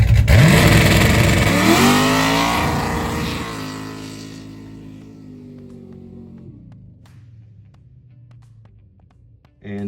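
An LS-swapped Chevrolet S10 truck pulls at full throttle, its engine roaring loud with rising harmonics, then fading steadily as it moves away and leaves a faint distant drone.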